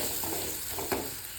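Garam masala, coriander powder and red chili powder sizzle steadily in a hot pan for a Konkani dried-fish curry, with a brief scrape as they are stirred, close and continuous.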